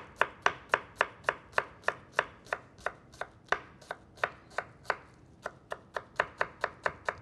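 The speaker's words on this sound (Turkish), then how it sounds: "Doğramaya devam edelim." A knife chops onion on a cutting board in a kitchen, steady rhythmic knocks, about two dozen crisp close strikes at an even pace with brief pauses, no talking.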